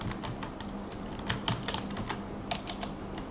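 Rapid, irregular clicking of keys on a computer keyboard as someone types, close and moderately quiet over a faint steady hum, with no talking.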